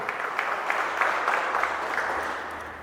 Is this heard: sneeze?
no